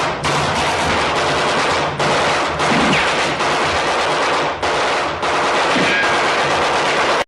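Sustained bursts of machine gun fire from the war film Where Eagles Dare, loud and dense, with rapid continuous volleys broken by brief pauses.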